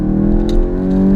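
Volkswagen Golf MK8 GTI engine in sport mode, its tone partly piped through the sound system, droning as a steady low hum with layered harmonics throughout, no voices.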